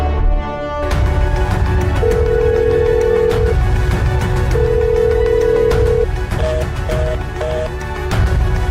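A telephone rings unanswered in a Kannada TV drama scene, its tone sounding in repeated bursts over a loud, steady background bed.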